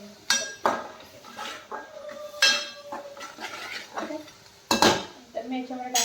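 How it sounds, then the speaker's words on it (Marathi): A metal spoon stirs onion masala with turmeric and spice powder in a pan, giving sharp, irregular clinks and scrapes against the metal, moderately loud over a quiet background. "हे वाटण बनवलेलं मिक्स करून घ्यायचे"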